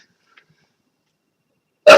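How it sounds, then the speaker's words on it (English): A single short sneeze bursts out near the end after near silence, loud and close. "I have to sneeze"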